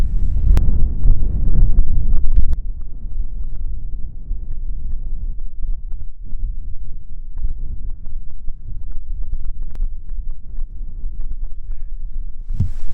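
Blustery wind roars across Chinkwell Tor, a granite hilltop on Dartmoor, battering the microphone in a heavy low rumble with a stronger gust at the start, continuous and loud with no voices.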